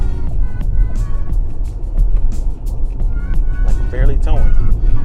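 Pickup truck with 4.30 gears towing a 5,000 lb trailer along winding roads, its engine and road noise a steady low drone beneath someone talking throughout.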